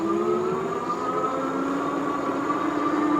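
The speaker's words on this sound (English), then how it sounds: "750 watt motor." A 750 watt electric bike motor under throttle climbing a hill on a RevR V5 e-bike, a steady high whine with a constant rushing hum of wind and road noise.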